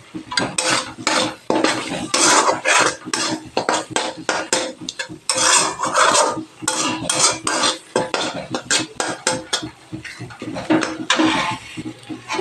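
Spoon scraping and clinking against a pan while tomato and cumin-powder masala is stirred and fried for a village-style pumpkin and potato curry, steady busy clatter with scraping strokes throughout, no voices.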